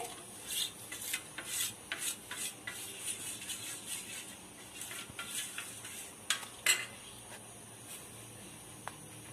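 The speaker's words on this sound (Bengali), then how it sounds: "এখানে ব্যাটারটা গুলিয়ে নিচ্ছে।" Gram flour batter being whisked in a bowl for frying aubergine fritters, a quick scraping and clinking rhythm of utensil against the bowl, steady and close, with no voices.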